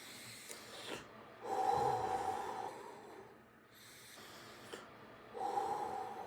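Forceful breathing exercise: two long, loud breaths with sharp nasal rushes of air, separated by quieter stretches and short snorting puffs, close to the microphone with no speech.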